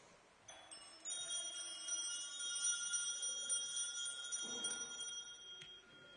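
An altar bell rings at a First Communion ceremony in a parish church, bright sustained metallic tones struck at about half a second, again near one second and around four and a half seconds, ringing on and decaying with faint room noise beneath.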